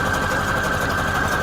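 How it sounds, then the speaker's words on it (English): A sewing machine stitches through paper in a steady, fast mechanical whir with a constant motor hum and even needle rhythm, close and fairly loud with no talking. "this sewing machine is really, really good with paper"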